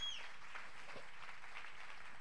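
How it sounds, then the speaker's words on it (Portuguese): Church congregation applauding during a Portuguese-language service, a faint, steady patter of many hands clapping throughout after a brief high tone at the start. "uma salva de palmas a eles também"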